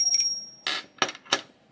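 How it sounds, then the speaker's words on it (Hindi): A hand bell rung during aarti worship for Banke Bihari, sounding as three separate bright metallic rings a fraction of a second apart, near and moderately loud, after a faint high tone. "तो अब घंटी बजाकर आरती कर लेंगे।"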